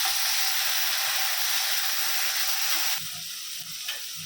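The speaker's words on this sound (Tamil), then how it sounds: "இஞ்சி பூண்டு விழுதை நம்ம சேர்த்துக்கலாம். இது நல்லா பச்சை வாசம் போகிற வரைக்கும் நல்லா வதக்கிக்கலாம்." Ginger garlic paste sautés in a hot pan for chicken sukka varuval, a loud continuous sizzle and hiss that drops off and softens near the end as it is stirred, with no talking.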